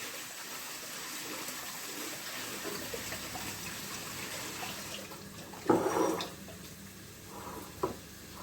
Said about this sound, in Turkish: Şimdi şu patatesimizi şöyle yıkayalım